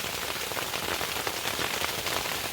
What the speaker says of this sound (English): I don't think I've been in a hailstorm in a tent for years.